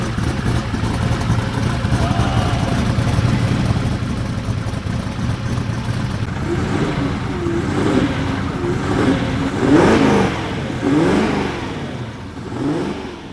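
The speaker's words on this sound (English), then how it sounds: "the sound, the V8 sound is just glorious." A modified V8 car engine rumbles steadily, then revs up in several rising and falling bursts, loud and close.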